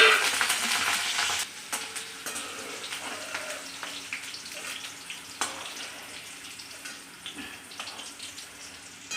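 Green chillies frying in hot oil, a steady loud sizzle at first that drops to a softer crackle with occasional sharp pops and spatters.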